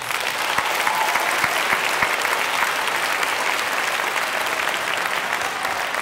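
Concert audience applauding the Grade 8 band at a school spring concert, a dense, even roar of clapping that stays loud and steady throughout.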